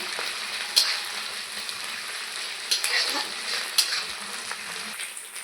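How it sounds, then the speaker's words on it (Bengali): Pre-boiled fish frying in a pan with onion and chili, a constant close sizzle with scattered sharp clicks of a spatula stirring, no speech. "ভালো করে একটু ভেজে নেব যেন মাছের কাঁচা গন্ধ না থাকে"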